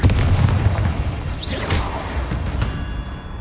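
A Confringo fire spell goes off in Hogwarts Legacy, a loud booming blast with a whooshing burst in the middle over a dense, rumbling game soundscape.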